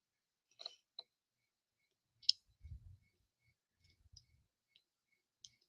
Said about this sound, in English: Ah, you're a noisy glue bottle tonight.